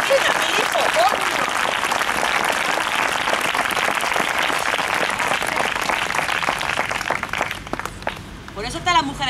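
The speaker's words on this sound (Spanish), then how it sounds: "Gracias por el aplauso" Steady applause from a live theatre audience at a stand-up comedy monologue, dense clapping sustained for several seconds before thinning out near the end.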